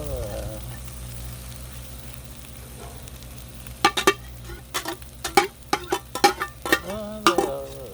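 Beef fried rice stirred and scraped on a Blackstone griddle, a steady close sizzle broken after the midpoint by a run of sharp spatula clacks and scrapes, with faint humming in the background.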